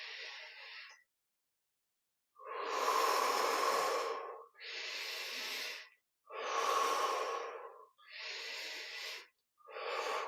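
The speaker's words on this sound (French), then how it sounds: "On va prendre 15 grandes respirations. Inspire par la bouche, inspire par le nez," Slow, deep breathing during a guided meditation, with long audible inhales and exhales, alternating through the nose and mouth. Five loud, close breaths are separated by short pauses.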